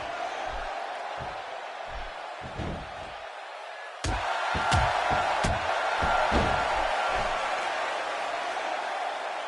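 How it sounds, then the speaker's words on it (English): A wrestling arena crowd roars in a WWE SmackDown video game, forming a steady bed of noise. Rhythmic thuds and slams cut through it, and the crowd swells louder partway through. "Another electric crowd on hand here for SmackDown, as has been the norm over the years."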